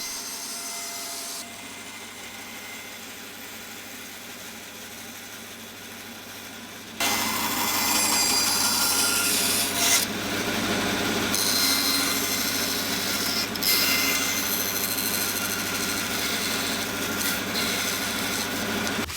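Wood edges sanded by hand to fit a recess: a steady, dry rasping scrape that continues throughout and grows noticeably louder and fuller about halfway through, with no voices.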